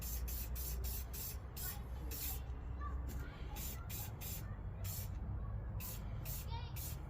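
Short bursts of aerosol spray hiss out in an irregular rhythm as a coating goes onto the rear body mount of a Jeep YJ during rust repair. The bursts are close but fairly quiet over low background noise.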